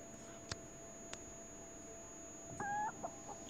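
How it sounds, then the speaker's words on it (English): A chicken clucks in the space-survival video game Breathedge, a few short clucks over a steady hum of game ambience, with no talk. "A chicken?"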